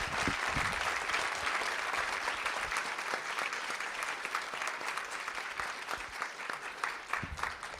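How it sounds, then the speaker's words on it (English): A board meeting audience applauds steadily for about eight seconds, a dense wash of many hands clapping at moderate distance, fairly quiet and with no talk over it. "Let's give Julie one more round of applause."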